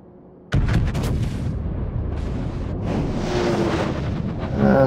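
Naval cannon broadside in a warship video game: a sudden loud blast erupts, followed by a sustained rumbling roar of continuous heavy gunfire and explosions, with no talk.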